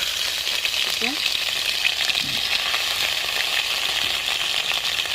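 Chicken frying with ginger-garlic paste while being stirred: a dense, even sizzle holds steady throughout, close and fairly loud, with a couple of faint metallic clinks from the utensil and no talking.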